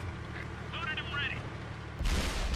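A T-54 tank's main gun fires once in World of Tanks, a sudden loud low boom breaking in near the end over a steady engine rumble and game noise, with a voice talking faintly earlier.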